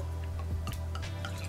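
Rosé wine from the south of France is poured into a glass, giving soft trickling and dripping liquid sounds over a low steady background hum, with no talking.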